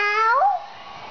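A child imitates a cat, giving a single clear, rising then falling meow-like cry, close and fairly loud, followed by quiet.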